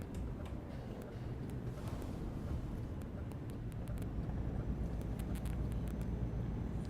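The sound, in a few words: truck turn indicator clicking, video game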